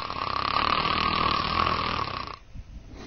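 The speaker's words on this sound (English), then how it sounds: "Breath by breath, the frequency of the upper airway vibration increases along with the loudness of the snoring." Loud snoring from upper airway vibration during sleep, one long rattling, buzzy snore that cuts off abruptly, followed by a brief quieter breath.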